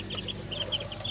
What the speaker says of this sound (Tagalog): Daming dito, manok. Manok ang mas madami ngayon kaysa sa pato.